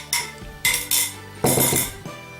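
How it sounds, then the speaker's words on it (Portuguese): A wooden spoon stirs filhoses batter made with pumpkin in a bowl, giving a few sharp, separate knocks and scrapes against the bowl in quick, uneven succession, with no voices. "E agora já mexo com a colher de pau."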